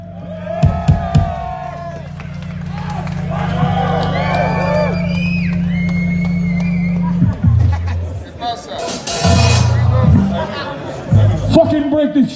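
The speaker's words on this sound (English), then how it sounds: "Applause for Johnny!" A crowd at a live metal show cheers and shouts as Jonhie of Simbiose joins Systematic Violence on stage, loud and sustained over a steady low amplified hum, with whoops and bursts of noise near the end.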